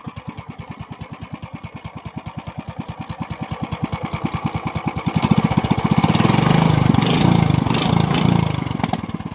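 A small 13 hp Yamada high-speed engine chugs with a rapid, even putter, then revs up into a louder, smoother roar before easing back slightly.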